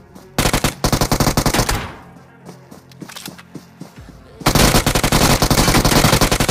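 Rapid bursts of automatic gunfire in a battle royale video game, loud and close, with a short lull of scattered single shots before another sustained stretch of firing.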